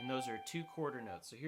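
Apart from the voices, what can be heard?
None of the usual background noises is heard.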